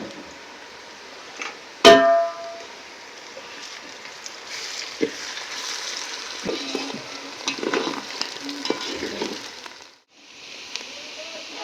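Ginger-garlic paste sizzling and frying in a hot pan for a mutton curry, a steady crackling hiss with a sharp clatter near the start and scattered stirring knocks, close and fairly loud, no talk.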